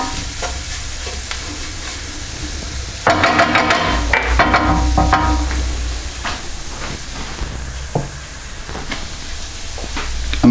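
Flour cooking in a hot frying pan that held steak juices, a steady sizzle with bursts of scraping and stirring against the pan, close and clear with no talk.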